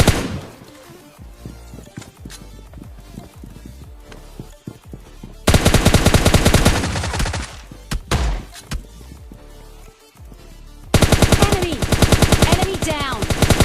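Rapid automatic gunfire from AKM and M4 rifles in PUBG Mobile Lite, scattered single shots and thuds giving way to two long, loud sustained bursts.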